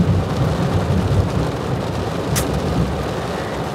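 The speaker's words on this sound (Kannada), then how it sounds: "ಫುಲ್ ಮಳೆ ಬರ್ತಾ ಇದೆ" Heavy rain pours down at an outdoor engagement event in Hubballi, a loud, dense roar with a low rumble of thunder underneath and a brief sharp crack near the middle.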